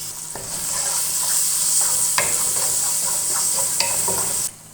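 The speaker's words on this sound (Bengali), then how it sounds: "পেঁয়াজটা একটু হালকা ভেজে নিলাম" Chopped onions sizzle lightly in oil in a pan, a steady close frying hiss with occasional stirring scrapes and taps running throughout before stopping abruptly near the end.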